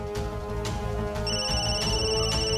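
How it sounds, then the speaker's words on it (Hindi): A phone ringtone chimes in bright repeating tones over a steady low background rumble, fairly loud and close. "ए फोन तेरा फोन बजा, फोन।"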